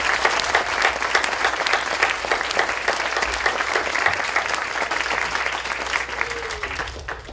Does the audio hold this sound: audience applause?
yes